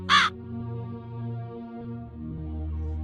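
A single loud, harsh crow caw bursts out at the very start, then gives way to sustained, steady musical tones with no further calls.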